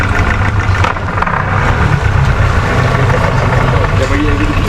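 A motorboat engine drones loud and steady at close range as the boat noses into a mangrove cave on a Langkawi mangrove tour, with constant low rumble throughout.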